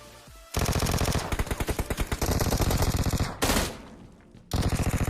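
A Vector submachine gun fires in PUBG Mobile, loud rapid automatic bursts with short pauses between them, close and without talk.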